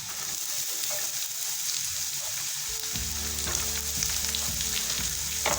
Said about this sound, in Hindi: पाँच मिनट तक हम अच्छे से इसको फ्राई कर लेंगे।